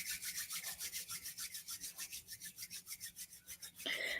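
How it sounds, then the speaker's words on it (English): Palms of the hands rubbed together give a fast, rhythmic back-and-forth rasping swish, about five strokes a second, close and soft, continuing for several seconds before a brief change at the end, with no talking. "Rubbing the palms of the hands together."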